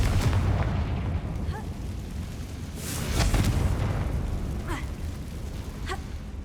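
A Confringo blasting spell in Hogwarts Legacy bursts with a loud, booming explosion, followed by a second heavy blast a few seconds later over a dense rumbling game backdrop.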